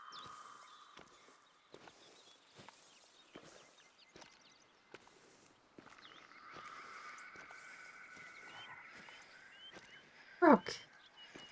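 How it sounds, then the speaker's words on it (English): Frog croaking in a wildlife video game with a new biome, a repeated croak rising over a quiet outdoor ambience of rustling and footsteps, with one louder close call near the end. "Frog."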